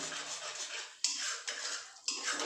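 A spoon scrapes and clatters around a pan while a potato and pointed gourd curry with sesame is stirred. The scrapes are close and faint, with a few sharper knocks against the metal.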